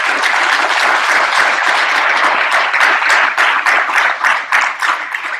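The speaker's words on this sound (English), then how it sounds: "So I would like to just kind of clap for them" Attendees at a business meeting clap for allied member exhibitors, a full round of applause that starts dense and thins into more distinct, rhythmic claps toward the end.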